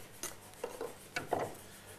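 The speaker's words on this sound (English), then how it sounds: "I'll file that up to make it sweet" Steel knife blade notch being filed, with a few short, close rasping strokes spaced unevenly across a couple of seconds.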